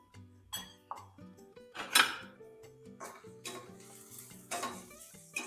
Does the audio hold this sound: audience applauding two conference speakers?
no